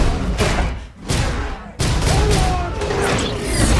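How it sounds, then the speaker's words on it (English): Explosions and crashing impacts from the Rampage movie trailer, loud and dense, with a sharp burst near the middle and a steady rumbling din throughout. "Oh, explosion, yes."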